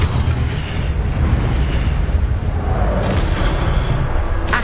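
Incendio fire spell cast in Hogwarts Legacy, a loud continuous roaring, booming rush with a couple of brighter bursts, close and steady throughout with no talk.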